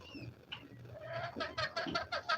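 Laying hens cluck in a quick, rising series of short calls, fairly close and moderately loud, with no talking.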